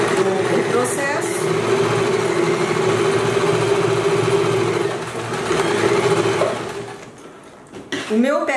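Sewing machine running steadily for several seconds while stitching fabric for a duck-bill ninja-style face mask, a continuous close whir that slows near the end as a voice speaks briefly.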